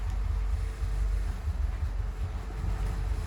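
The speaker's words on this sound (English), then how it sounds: "That's the port engine" The port Volvo D4 260 hp sterndrive diesel engine on a Sealine S38 boat runs in neutral, a steady low rumbling idle close by.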